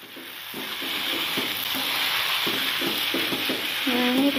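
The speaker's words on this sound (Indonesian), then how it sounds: "Goreng sampai selesai." Kwetiau noodles are stir-fried in a pan, with a steady sizzle and rhythmic scraping stirs repeating about every half second.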